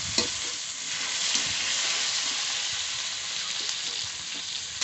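Potatoes fry in a pan for a simple village Bengali dish, a continuous bright sizzle broken by a few clinks and scrapes of stirring, close and alone.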